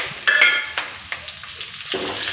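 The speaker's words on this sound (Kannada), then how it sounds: "ಅದೇ ಆಯಿಲ್ನೊಳಗಡೆ ಈಗ ಕರಿಬೇವು ಸಾಸಿವೆ ಹಾಕ್ಕೊಂಡು ಫ್ರೈ ಮಾಡ್ಕೋಬೇಕು" Curry leaves and mustard seeds fry in hot oil for an egg masala curry, giving a loud, close crackling sizzle with sharp pops and spits over a steady hiss.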